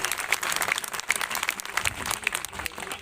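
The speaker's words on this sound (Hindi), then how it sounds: "कृपया तालियां जोर से बजनी चाहिए।" Loud, continuous applause from an audience at a ceremony at the Anjani Lal temple in Biaora, with dense clapping sustained throughout and a faint background murmur.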